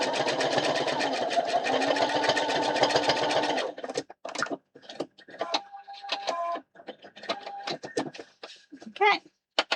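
Sewing machine stitching a fabric cushion, a close, fast, steady mechanical whir for several seconds, then stopping as a person talks over short pauses and clicks.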